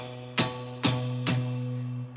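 Three separate strums on a guitar in a root-6 shape on the sixth string, each a sharp attack that rings on with a steady tone, close and clear with no voice.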